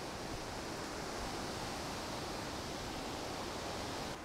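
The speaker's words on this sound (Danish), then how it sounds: "Og for en vind." Strong wind buffets an outdoor microphone on a grey, blustery day at a skate ramp, a steady roaring broadband rush that holds for several seconds without letup and masks everything else.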